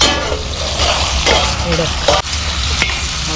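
Crab curry ingredients with garlic and salt crackle and sizzle in hot oil, a steady loud frying hiss broken by brief stirring scrapes and clinks near the pot.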